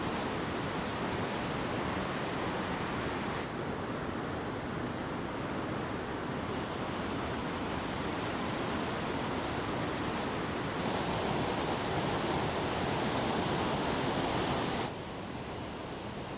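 Roaring waterfall on the Biy-Khem river in the Eastern Sayan, forming a narrow natural dam barely two metres wide; a loud, steady broadband rush of churning water continues without pause and without voices.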